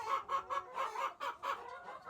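Hens cluck close by in a quick, steady run of short throaty bursts, one after another, with no voices.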